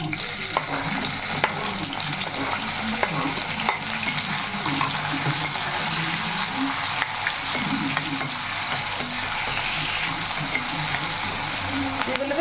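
Food frying and sizzling in a pan with salt added, for a tomato rice and chicken gravy meal, with steady stirring scrapes over a continuous close crackle and no talk.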